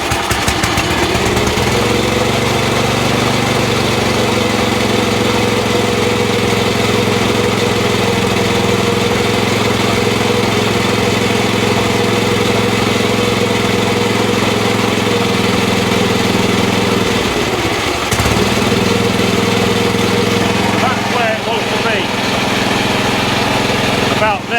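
A Massport Olympic cylinder mower engine idles loud and close, thrumming steadily throughout, with the revs dipping briefly near the end before settling back to the same idle.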